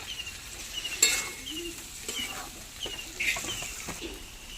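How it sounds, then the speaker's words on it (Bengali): Potatoes and okra stir-fry in mustard oil with tempered spices while a utensil scrapes the pan at intervals. The soft sizzle runs steadily, and a bird chirps faintly in the background. "তেলে ফোড়ন দিয়ে আলু আর ভেন্ডি তেলের সঙ্গে ভালো করে কষিয়ে নিয়েছি"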